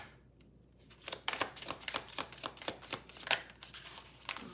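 Tarot cards are shuffled close up in a rapid, rhythmic series of crisp riffling flicks, repeating steadily for several seconds with no talking.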